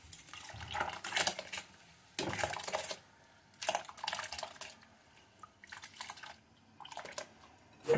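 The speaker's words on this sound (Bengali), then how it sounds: "এবার ভাতের চালটা আমি দিয়ে দিচ্ছি।" Raw rice grains poured into a pot of cooked chicken and spices for a sour biryani, bursts of dry rattling and pattering in several separate pours, fairly quiet and close, no talk.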